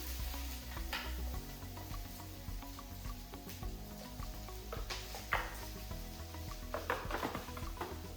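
Peppers and onions sautéing in olive oil in a cast iron skillet, a faint steady sizzle with scattered clicks and scrapes of stirring, no talk.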